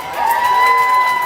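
County fair grandstand crowd cheering and shouting at a mutton bustin' event, a steady, loud roar of voices holding for about a second with whoops rising above it.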